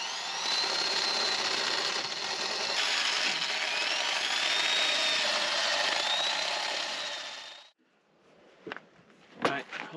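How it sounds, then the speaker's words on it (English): A power drill boring out a metal part on the underside of a digger, a loud continuous whine for several seconds that cuts off abruptly, followed by a few sharp metallic knocks. "We're drilling out the underneath so we can bolt them from underneath"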